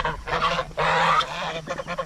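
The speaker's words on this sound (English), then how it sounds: "My geese are, quite frankly, rather annoying" Loud goose honks in repeated bursts, a couple of long harsh calls followed by several shorter ones, close by with a low hum underneath.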